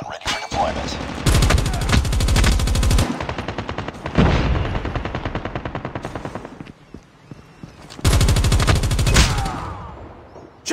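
Loud automatic gunfire from a video game shooter pitting an S36 against an RPD, rapid bursts at close range broken by short pauses and reload gaps, then a final sustained burst.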